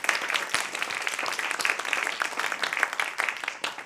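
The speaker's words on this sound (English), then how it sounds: "can we give these people a round of applause?" Audience applause fills a town hall meeting, dense steady clapping from a sizable crowd, close and fairly loud throughout with no pauses.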